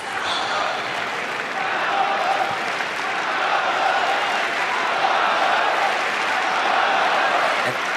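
Crowd on Court Philippe Chatrier at Roland-Garros during a men's quarter-final, sustained applause with scattered cheers filling the stadium, steady and moderately loud, with a commentator's voice over it.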